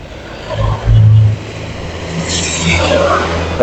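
A Honda ADV175 motor scooter engine accelerates on a ride, rising as a loud, steady drone with a brief surge early on and continuous road and wind noise, with no speech.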